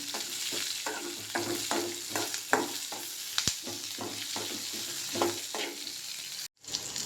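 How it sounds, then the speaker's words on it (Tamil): Shallots or onions sizzle and fry in a pan for a Tamil chayote kuzhambu, with a spatula stirring in regular close scrapes over the steady crackle and one sharp clink near the end. "வெங்காயத்தை நல்லா வதக்கிக்கலாம்."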